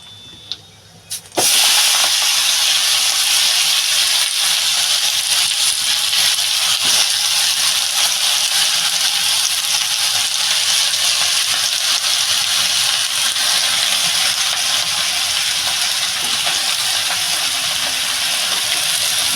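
Vegetables hit hot oil seasoned with coriander, cumin and chili powder in a home kitchen, bursting into a loud, steady sizzle after a brief quiet start and staying dense and hissing throughout.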